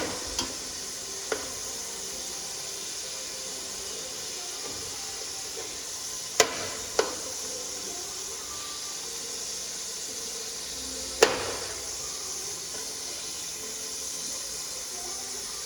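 Food sizzles steadily in a hot pan, a constant hiss with a few sharp clinks of a utensil against the pan.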